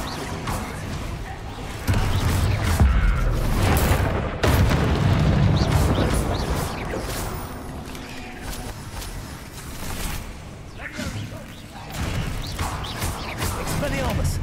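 Confringo fire spells burst repeatedly during a Hogwarts Legacy fight, heavy booms and crashes landing among battle noise and footsteps, with voices talking over the din throughout.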